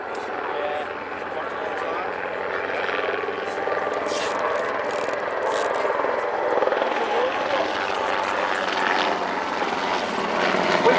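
A UH-60 Black Hawk helicopter flies a display at an air show, giving a steady, broad rotor and engine roar that slowly swells, with a voice talking over it.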